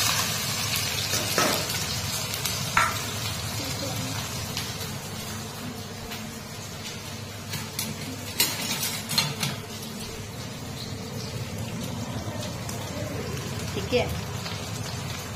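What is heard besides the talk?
onions frying in hot oil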